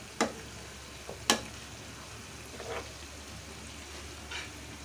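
Tree leaves fried in hot oil while being stirred, heard as faint, sparse crackles with a couple of sharp scraping clicks against a quiet background.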